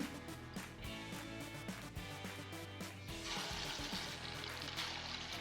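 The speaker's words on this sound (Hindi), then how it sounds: "बिल्कुल हल्की आंच पर इनको फ्राई कर लें" Andarsa, the rice-flour sweet dough, fries gently on low heat, a faint, soft bubbling sizzle that brightens into a fuller hiss midway, with no voices.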